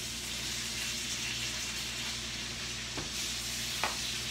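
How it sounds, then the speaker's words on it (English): Ground beef sizzles steadily in a hot skillet while being stirred, a close, continuous frying hiss with a couple of faint scrapes from the stirring utensil. "we're going to put it back in the skillet. We're going to mix that up really, really good."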